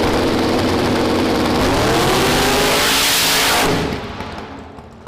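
A drag racing bracket car at a no-prep event makes its run, its loud engine roaring at full throttle for several seconds before fading into the distance.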